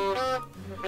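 A cartoonish duck in Scrap Mechanic gives two nasal, honking quacks about a second apart, loud and close, with nothing else audible.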